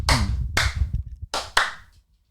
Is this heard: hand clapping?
yes